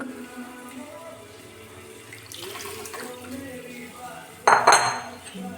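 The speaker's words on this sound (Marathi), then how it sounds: "थोडंसं पाणी टाकणार" Kitchen clatter of dishes and utensils, then a short, louder splash of water poured into a pot of buttermilk near the end.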